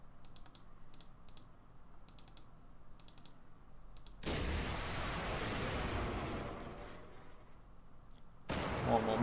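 Missile launches and explosions in a naval war strategy game, a loud broadband roar and rumble bursting in after quiet keyboard typing, sustained for several seconds, then a second blast near the end.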